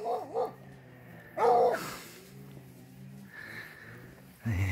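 A hunting dog in training on wild boar near Ohrid, Macedonia, gives several sharp barks and yips in bursts, moderately near, with quieter gaps between and someone talking faintly.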